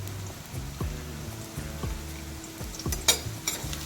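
Garlic sautéing in a pan for a fish fry, a steady close sizzle with repeated rhythmic stirring scrapes, ending in a few brighter clinks of the spatula.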